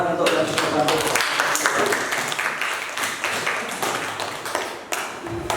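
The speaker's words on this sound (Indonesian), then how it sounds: "untuk apresiasi kita beri tepuk tangan untuk yang sudah" Students in a classroom clap together in a sustained, dense burst of applause that gradually thins out toward the end, fairly close and loud.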